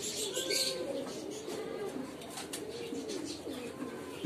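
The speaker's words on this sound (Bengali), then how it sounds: "এগুলো হলো জ্যাকোবিন কবুতর" Jacobin pigeons at a pigeon farm coo in low, rolling, repeated calls, close and continuous, with faint chirps from other birds in the background.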